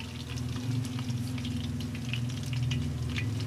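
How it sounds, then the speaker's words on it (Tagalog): Skinless longganisa sausage frying in a pan for breakfast, a steady close sizzle with light crackle and occasional stirring sounds running continuously. "Mag-fry tayo na skinless."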